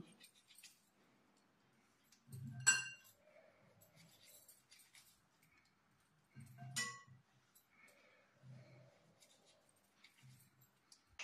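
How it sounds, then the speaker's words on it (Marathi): A knife cuts lemons into halves, with two distinct thunks against a cutting board a few seconds apart and faint clinks and handling noises between them, quiet and close. "त्याच्या आधी आपण पहिल्यांदा लिंबाचे 2-2 कापा करून घेऊ।"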